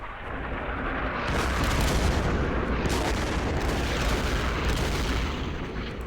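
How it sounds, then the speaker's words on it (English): Artillery fire in the Mare Nostrum war game, heavy rumbling booms rolling into one another in a dense, loud barrage that swells and fades, with no voices. "Is that your artillery?"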